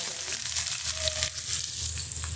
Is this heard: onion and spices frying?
yes